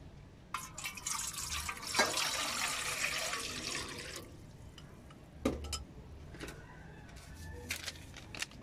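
Four cups of water pour into a pot for cooking gelatin, a bright rushing splash for about four seconds, followed by scattered clinks and short dribbles of liquid as the pouring stops and starts.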